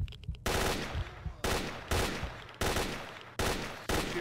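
Bursts of automatic gunfire in S.T.A.L.K.E.R.: Shadow of Chernobyl, shooting a bandit inside the bandit base, with several sharp loud volleys separated by brief pauses and no talk.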